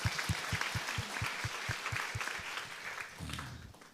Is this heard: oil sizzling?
no